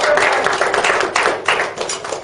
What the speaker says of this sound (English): So let's have a round of applause for him.